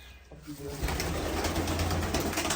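Pigeons coo in low, soft, repeated calls nearby, blending with a murmur of background activity.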